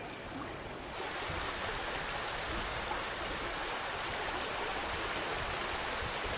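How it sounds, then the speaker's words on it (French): Water runs over basalt rocks in the Sahara, a steady close rushing and gurgling wash that grows louder after the first second and continues without any talking. "Selon la nature du sol, l'eau est immédiatement absorbée ou elle ruisselle le long des roches."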